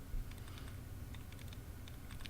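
Typing on a computer keyboard during a Fallout: New Vegas playthrough, a string of light, quick key clicks over a low steady hum, fairly quiet with no talk.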